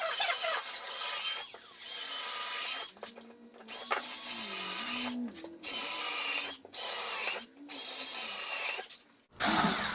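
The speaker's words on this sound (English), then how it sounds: "So we'll drill." A power drill bores angled screw holes into a wooden workbench cross piece, the motor whining in several bursts separated by brief pauses as the bit is stopped and restarted.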